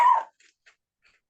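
A dog gives a single short, sharp bark at the very start, followed by a few faint, brief noises in near silence.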